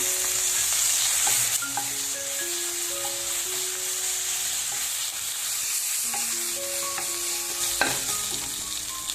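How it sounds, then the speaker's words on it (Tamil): Continuous sizzling and frying of ginger and garlic in a pan, with occasional scraping and stirring and faint musical tones in the background. "இப்போ நம்ம எடுத்து வச்சிருக்க இஞ்சி பூண்டு எடுத்து போட்டு வதக்கிக்கலாம்"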